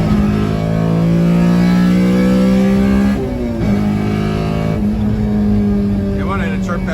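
A Honda Civic with a swapped K20A engine and limited-slip differential revs loud and steady, dropping briefly as it shifts into third, then pulling hard again; a short tire chirp cuts in near the end.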